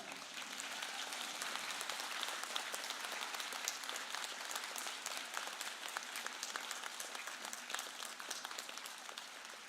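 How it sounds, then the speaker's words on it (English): Graduates and guests at a Sutherland campus convocation ceremony clap steadily in a large hall, a dense continuous wash of applause holding at even volume throughout. "let's give a round of applause to all of those people who helped you get here today"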